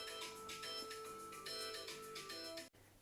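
A mobile phone ringtone plays as a repeating melodic chime, steady and moderately loud, then cuts off abruptly near the end.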